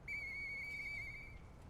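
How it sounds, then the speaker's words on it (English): A single steady whistle note played in the Lies of P video game holds for over a second, clear and close, then fades. "let's play the whistle."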